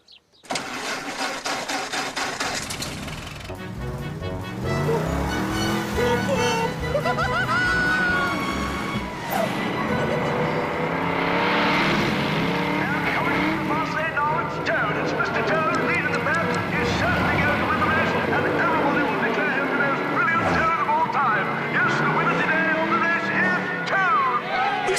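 A motor car engine starts and revs, then runs continuously as the car drives off, loud throughout, with voices heard over the engine noise.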